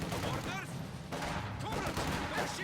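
Rapid machine gun fire and bursts of gunfire in the World War II strategy game Company of Heroes 2, loud and dense throughout, mixed with other battle noise and someone talking over it.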